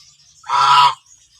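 One loud, close honking call from a Muscovy duck on a farm at evening, a single burst of just under half a second, alone against quiet.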